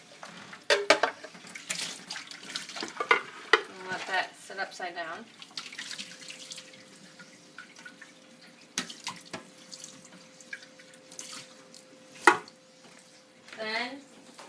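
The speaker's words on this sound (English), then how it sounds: "All I do is like a quick rinse with warm water." Tap water runs into a sink in bursts while juicer parts are rinsed with warm water, the splashing and plastic clatter heard close up as someone talks throughout.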